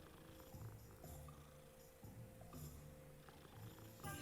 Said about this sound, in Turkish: Yine bir kedi.